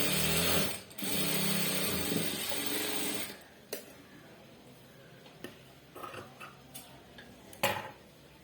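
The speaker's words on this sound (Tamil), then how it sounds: "இப்போ ஒரு மிதி அளவு பக்கத்தில் தையல் போட்டுக்கணும்." A sewing machine runs a steady close stitch along a blouse for a few seconds, then stops, leaving sparse ticks and small handling clicks of the tailoring work.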